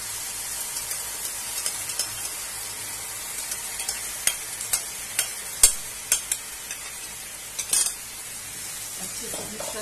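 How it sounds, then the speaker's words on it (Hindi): A utensil scrapes and stirs through a thick yogurt and spice mixture in a hot pan on low heat, with soft sizzling underneath and a few sharper clinks standing out midway. "इसे लगातार चलाते हुए ही बनाना है, नहीं तो हमारी दही फट सकती है"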